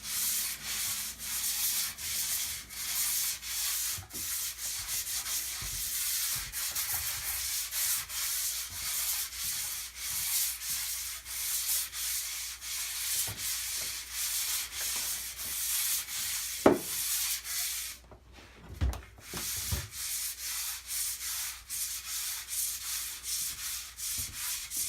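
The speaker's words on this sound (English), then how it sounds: "Another very light sanding." Soft, repeated rubbing strokes of sandpaper lightly sanding a compound skim coat over brick, steady and fairly quiet, with a couple of light knocks near the end.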